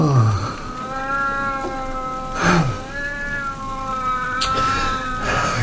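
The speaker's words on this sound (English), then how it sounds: "That damn cat of yours, get him out." A cat meows repeatedly in a ship's cabin during a stormy sea voyage, with several drawn-out, wavering cries, fairly close and loud, over steady rain.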